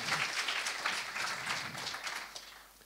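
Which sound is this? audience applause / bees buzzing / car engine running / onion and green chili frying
audience applause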